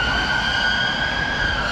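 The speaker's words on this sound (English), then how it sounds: "Just the ambulance going past," Ambulance siren sounding steadily from close by as the vehicle passes along a London street, with no talk.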